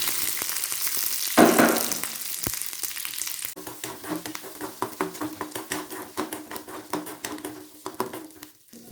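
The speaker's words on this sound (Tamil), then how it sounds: "அதையும் லேசாக வறுத்துக்கலாம்." Three peeled garlic cloves frying lightly in a pan for a vegetable idli recipe, a soft sizzle with a brief louder burst early on, then quiet patter and small clicks from stirring.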